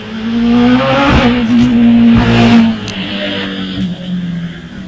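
A Class J2 racing car of 1100 to 1600 cc, a Force TA, climbs a hillclimb course with its engine loud and revving hard through gear changes, then fading slightly as it pulls away.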